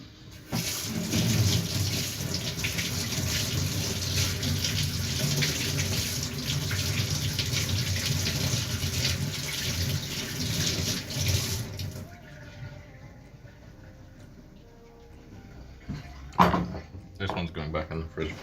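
Kitchen items washed under a running tap, with a steady loud rush of water for about twelve seconds before it stops, followed by quieter handling clatter and a brief knock.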